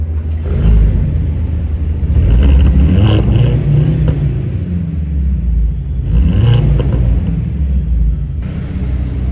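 A Mercedes-Benz C63 S two-litre four-cylinder engine revs hard and roars, its pitch climbing and falling in repeated surges over a deep, steady rumble, loud and close.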